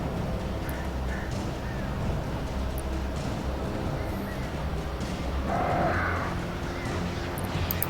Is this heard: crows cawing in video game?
yes